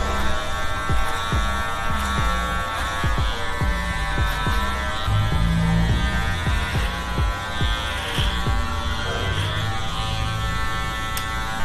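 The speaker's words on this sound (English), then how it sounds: "Continuing the machine over comb to the back." An electric hair clipper drones steadily as it cuts hair over a comb on the back of the head during a textured French crop, a loud continuous buzzing hum with small fluctuations as the blade moves through the hair.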